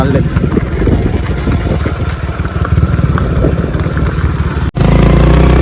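A motorcycle engine rumbles close by with a steady pulsing beat on a village road near a river, while people talk over it.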